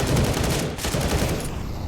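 Rapid Galil rifle gunfire in a Counter-Strike match on Mirage, a dense burst of loud, close shots filling the whole moment.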